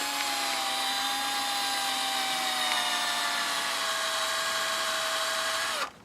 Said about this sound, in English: Then I took a small drill bit and I got a dimple started here